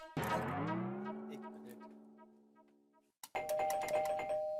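An electronic doorbell rings nearby with a sustained two-tone ding-dong that slowly decays over about three seconds, then sounds again abruptly with a brighter, harsher tone.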